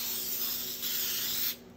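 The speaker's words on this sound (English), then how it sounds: "so we're gonna go ahead and spray it. My spray paint is acting funny recently." A spray paint can, one that has been sputtering lately, coats a laser-cut wooden backer with a single close, loud, continuous hiss lasting about a second and a half before cutting off.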